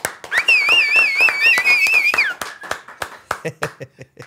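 A few scattered hand claps and taps sound beneath a sustained, wavering singing voice, followed by irregular claps as the voice stops, during a Spanish-language interview show.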